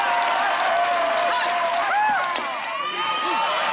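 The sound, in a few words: baseball stadium crowd cheering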